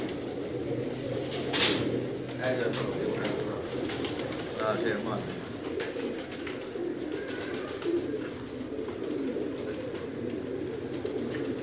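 Teddy joker breed pigeons cooing softly in a loft, low repeated throaty coos over a steady background hum, with a few sharp knocks and scrapes and a voice speaking faintly.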